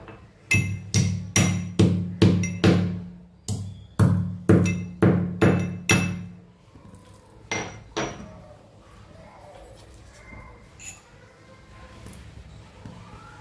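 Whole green cardamom pods crushed for chai in a mortar, heard as a run of about ten sharp, evenly spaced pounding knocks up close, then two more after a pause, followed by quiet faint handling.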